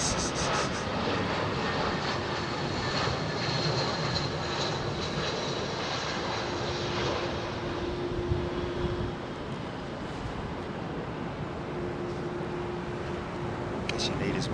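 Steady, loud jet roar of an aircraft passing at London Heathrow Airport, heard from a plane-spotting area, a continuous broad rumble with a faint whine that holds throughout.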